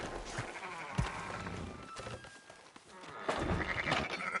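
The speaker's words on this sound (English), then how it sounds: "Fine sheep." Sheep bleat in a video game in a few short calls amid rustling background noise, with a louder burst of activity toward the end.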